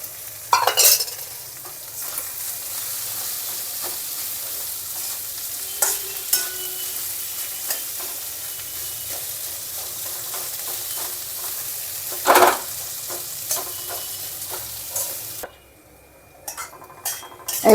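Potatoes fry in a kadai while being stirred and pressed, giving a quiet, constant sizzle broken by repeated scraping clicks of a spatula against the pan. No one speaks.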